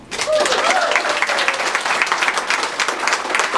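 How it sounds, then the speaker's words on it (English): An audience bursts into loud, sustained applause for an honoree at a free clinic's 25th anniversary celebration, dense clapping filling the room, with a faint whoop or cheer rising briefly near the start. "I would like a huge round of applause for Diane Craven"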